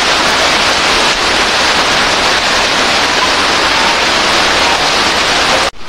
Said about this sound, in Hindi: ये देखिए बारिश जोर से हो रहा है।